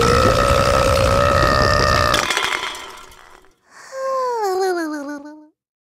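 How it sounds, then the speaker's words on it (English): A cartoon character lets out a huge, drawn-out burp after drinking too much water, a loud tonal croak that fades, followed after a short pause by a wobbling, warbling voiced sound. "Little Blue drank too much and let out a huge burp."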